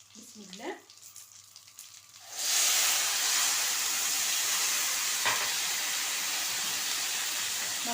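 A cup of water splashed into a hot pan of sweet vermicelli with raisins, bursting into a loud, sustained hissing sizzle after a few quiet seconds of faint handling noise.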